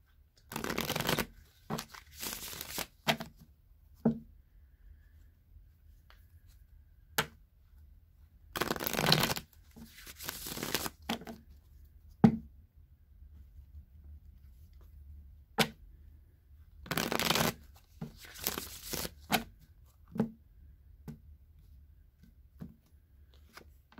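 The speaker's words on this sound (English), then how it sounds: "I'm going to try pulling just one last card from this deck to see if there's any last message" A tarot card deck is shuffled close by in repeated riffling bursts with short pauses between them, crisp and fairly quiet, with no talk.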